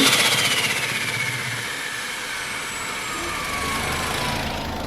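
A big-turbo 2JZ engine in a Toyota Crown rumbles close by, swelling briefly at the start before settling into a steady, rough idle with no talking.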